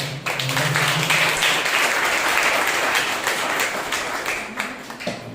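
A church congregation applauding during a Sunday morning service, loud, sustained clapping from many hands that thins slightly toward the end.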